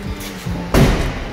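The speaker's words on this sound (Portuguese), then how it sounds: "Porta-mala cheio, pode fechar." A car trunk, loaded full, is shut with one solid slam that thuds briefly and loudly, with no talk.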